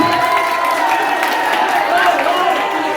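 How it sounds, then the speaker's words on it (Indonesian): Students at a junior high school (SMP Negeri 1 Gegesik) applaud and cheer, a loud, steady wash of clapping and crowd noise running through the whole stretch with voices mixed in. "Tepuk tangan untuk siswa-siswi SMP Satu Bersih."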